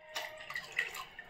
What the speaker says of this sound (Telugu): మనము 2 గ్లాస్ ఆఫ్ వాటర్ వేసుకుందాము.